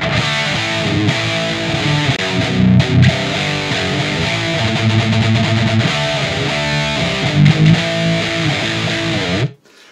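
Heavily distorted electric guitar played through a Diezel VH4 amp in a metal tone, dense chugging riffs running loud and continuous for nearly the whole stretch before cutting off abruptly at the end.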